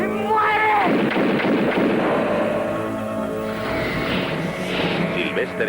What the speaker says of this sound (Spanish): la explosión tras la explosión